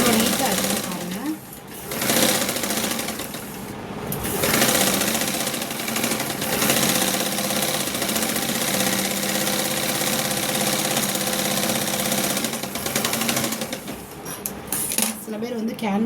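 A sewing machine stitches the lining of a blouse with a fast, continuous mechanical whir and rattle that runs almost throughout, while someone talks over it.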